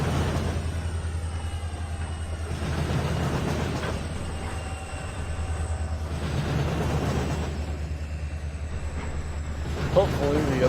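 A long freight train in Trainz 12 rolls through an intersection with a steady, heavy low rumble and faint wheel clatter, while a person talks over it.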